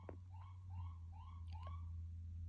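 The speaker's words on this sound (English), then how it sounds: "Siren going confirmation. And wow, really loud siren confirmation." A police siren passes by at a distance, its repeated rising wails faint over a steady low hum, with no talking.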